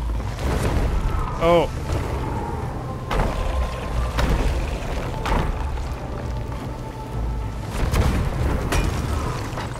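Ship cannons firing during a naval fight in the pirate game Sea of Thieves: several heavy booming blasts land at intervals over a continuous game soundscape, with a player's voice speaking briefly.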